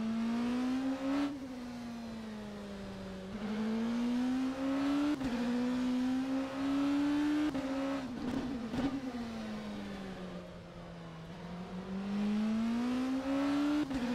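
An Oreca LMP2 race car engine in rFactor 2 at Interlagos, a continuous loud drone climbing through the revs and dropping with upshifts, with a rattly bump from the curbs partway through and no talk.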